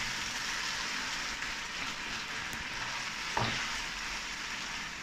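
Purslane sautés with meat in a pan, a dense, even frying hiss that holds steady throughout, with a single brief utensil knock partway through and no speech.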